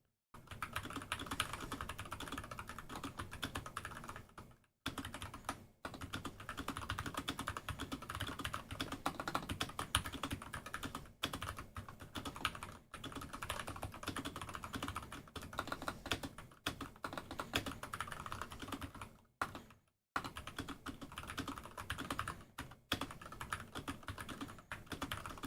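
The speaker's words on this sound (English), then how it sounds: "I'm a fast typer. I'm a good typer." Fast, continuous typing on a computer keyboard, dense rapid key clicks with a few brief pauses, close and fairly quiet, with no talk.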